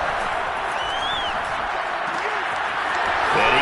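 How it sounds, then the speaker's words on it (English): Football stadium crowd during a Lions game ahead of a big third down, a steady roaring wall of noise that swells louder toward the end, with whistles and shouts over the din. "the crowd getting into it as we come up on a big 3rd down"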